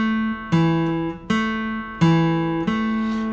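Acoustic guitar notes picked one at a time from a chord, four clear plucks, each ringing and decaying before the next.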